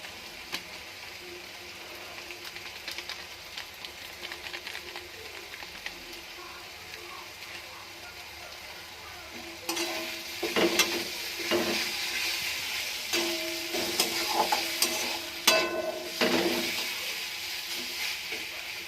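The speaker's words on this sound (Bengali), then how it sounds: "সব একসঙ্গে দিয়ে ভালো করে কষে নেব" Leftover cooked rice with green chilli and spices is stir-fried in a pan, starting with a faint low sizzle and then louder scraping and stirring strokes with irregular clinks over the steady frying hiss.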